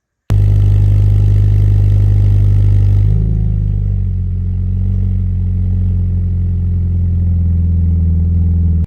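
A Subaru BRZ fitted with an MXP Performance Comp RS aftermarket exhaust starts up with a loud, deep rumble that settles into a steady, throaty idle up close, with no talking.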